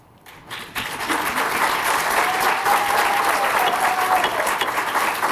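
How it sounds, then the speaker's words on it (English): A burst of applause rises from the audience at a city plan commission meeting in Joliet, starting abruptly after a quiet moment and holding steady and fairly loud to the end. "We hold down the applause, please"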